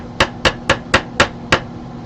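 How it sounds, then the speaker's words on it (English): Six sharp wooden knocks from an auctioneer's hammer at a live coin auction, evenly spaced, close and crisp with nothing else heard. "Dropped the hammer."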